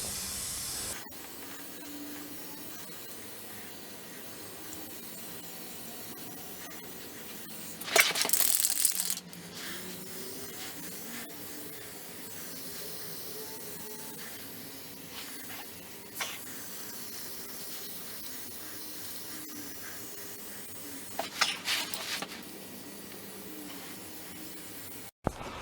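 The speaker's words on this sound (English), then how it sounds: "I'm trying to just spray the car." Undercoating is sprayed beneath a classic car in a home garage, with short bursts of hissing aerosol spray separated by long stretches of quiet background, no voices.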